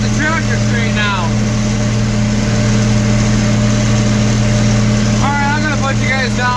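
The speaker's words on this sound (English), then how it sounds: "I just gotta keep the tractor straight now." A farm tractor engine runs in a field, a loud, constant low drone with a steady hum, while someone talks briefly at the start and end.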